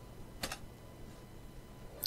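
A computer keyboard is typed on, giving a couple of quiet, close keystroke clicks separated by a pause in an otherwise still room.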